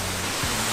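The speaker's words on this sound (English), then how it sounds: "Nobe Young Creek Falls, absolutely stunning waterfall" Nobe Young Creek Falls in Sequoia National Forest, a steady, broad rush of falling water filling the air, close and continuous with no voices.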